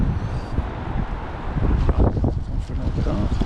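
Strong wind gusting up to 40 mph buffets the microphone at a lakeside fishing venue during winter match practice, making a constant loud low roar that swells and dips without a break.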